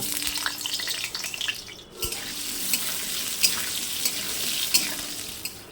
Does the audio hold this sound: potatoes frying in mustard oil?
yes